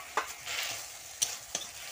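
Malabar spinach cooking in a pan with a ground paste of mustard, onion and green chillies, giving a soft steady sizzle broken by a few sharp stirring scrapes, close and fairly quiet, with no talking.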